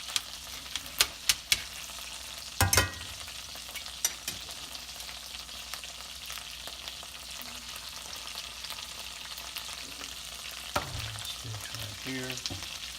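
Rosemary sizzles and fries in a hot pan while preparing reverse-seared steak, a steady crackling hiss with sharp pops and stirring clatters, no talking.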